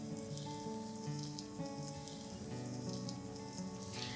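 Sliced onions and garlic, with ginger-garlic-chili paste, fry in hot oil, giving a steady, dense sizzle and crackle that runs evenly throughout, with tonal background music layered beneath.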